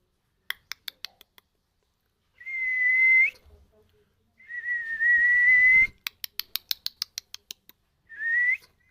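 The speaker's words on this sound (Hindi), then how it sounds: "हाँ सीटी मारे हो, कितनी सीटी मारे हो" A pet parrot whistles indoors in long rising tones, alternating with bursts of short sharp clicks and chirps, loud and close with no talking over it.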